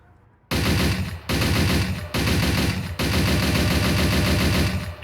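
Sustained machine gun bursts from a WWII tank's machine gunner seat in ArmA 3, four long loud bursts of rapid fire separated by brief pauses, close and dense.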